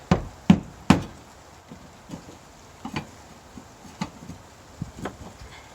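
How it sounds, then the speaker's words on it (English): Sharp metallic taps from a small hammer on a fuel pump retaining ring of a BMW E46 330i, three loud strikes at first, then lighter, irregular taps spread out over several seconds. "Small hammer here helps."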